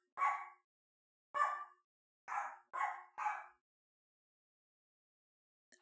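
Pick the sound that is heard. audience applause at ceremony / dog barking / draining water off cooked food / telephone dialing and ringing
dog barking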